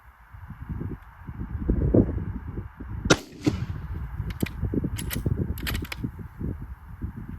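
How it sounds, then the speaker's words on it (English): Two unsuppressed rifle shots fired outdoors, each a loud, sharp crack with a short ringing tail, standing out over a steady low background rumble and lighter clicking noises. "we'll do 2 shots unsuppressed"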